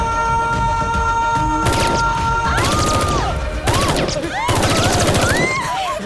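Terrorists attacking a mall in a movie scene: loud bursts of machine gun fire in rapid continuous volleys, with crashing impacts and rising and falling shrill tones over a dense, steady roar.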